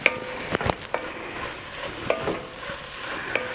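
A spoon stirs seasonings in a smoked turkey gumbo pot with irregular scraping knocks against the bottom over a low simmering sizzle, close and alone without speech.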